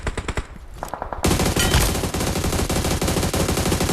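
Rapid automatic gunfire from a video game, a few sparse shots first, then a dense, loud sustained barrage of bursts.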